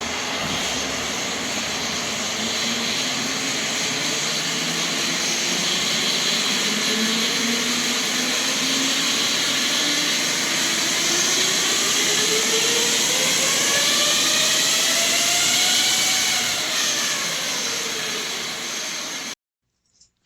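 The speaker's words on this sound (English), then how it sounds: "Now we should be ready to go and spin the motor," Formula SAE electric race car motor spinning up, a loud whirring whine that climbs steadily in pitch over many seconds with rising harmonics, then dips slightly before cutting off abruptly at the end.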